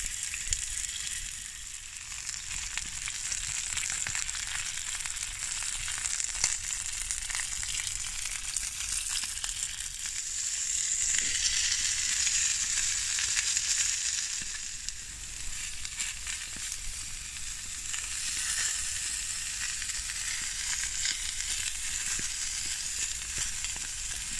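Lamb chops skewered on a stick sizzle steadily over a small IKEA twig stove outdoors, a continuous bright frying hiss with faint crackles and no talking.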